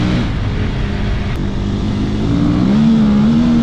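KTM 250 EXC-F dirt bike riding across soft ground, its engine a steady loud drone close by that climbs in pitch toward the end as the throttle opens.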